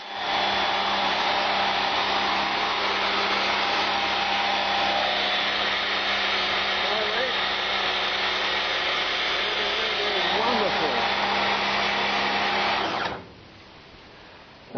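A repaired Karcher high-pressure water cleaner runs with a loud, steady motor drone and hiss for about thirteen seconds, then cuts off abruptly, leaving quiet background.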